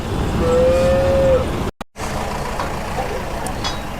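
A single drawn-out moo from a cart bull at a cattle market in Vaniyambadi, near and clear over a steady crowd and traffic rumble, followed by a brief cut and continued market noise.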